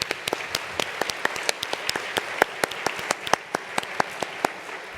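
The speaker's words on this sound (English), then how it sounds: "Please give yourself a round of applause." A modest group at a charity fundraising event claps, with distinct individual hand claps standing out as sharp, irregular snaps over a softer bed of applause, sustained across the whole stretch.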